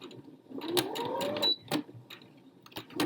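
Domestic sewing machine back stitching along a shoulder seam of a Florence jacket, with short bursts of stitching broken by pauses and handling noise, close and moderately loud.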